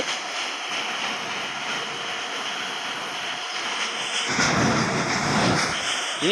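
A train in a video game runs with a steady, droning engine rumble and broad hiss, growing briefly louder and harsher near the end, with no talking.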